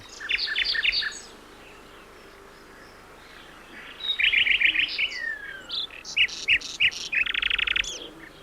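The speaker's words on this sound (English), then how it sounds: "It's the strong and varied musical song of the nightingale." A nightingale sings from dense thickets or deciduous woodland: bright, varied bursts of rapid trills and chirps, moderately close, separated by a quiet gap and growing busier toward the end over faint background hiss.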